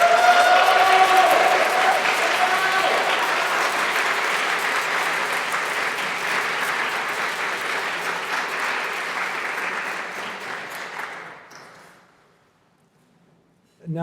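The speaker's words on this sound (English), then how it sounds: "please accept a round of applause as our deepest gratitude" Sustained applause from a crowd at a community center dedication ceremony in Crown Heights, Brooklyn, steady and fairly loud for about eleven seconds before fading out, with a voice returning at the end.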